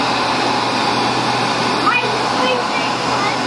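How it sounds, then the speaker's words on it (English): A blow dryer runs in a steady, loud, close whir through the whole stretch, a broad even hum with no breaks and no talking over it. "Go put it in the blow dryer."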